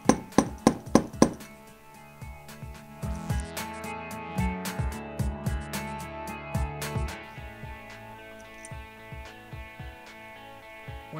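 A hammer gently taps a nail into a wall in a quick run of ringing metallic strikes, then slower, softer taps continue over a sustained tonal background.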